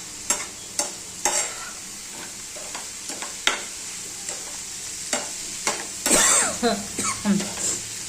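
Radish bhaji fries in a pan with a soft sizzle while a spoon scrapes and stirs in irregular clacks, plus a brief throat-clearing sound late on.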